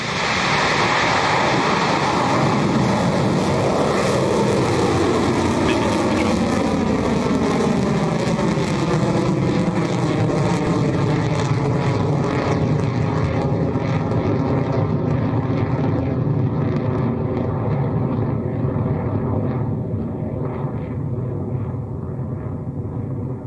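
Rocket Lab Electron rocket lifting off from Launch Complex 1 at Māhia, New Zealand, a sustained loud roar and crackle that steadily fades and recedes as the vehicle climbs away, with no voices.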